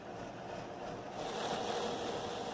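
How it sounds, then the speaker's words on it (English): A John Deere 4430 tractor engine idles after an oil change, a low steady rumble that grows slightly louder and rougher partway through, heard alone without speech. "Now I'm outside checking for leaks while the engine's running."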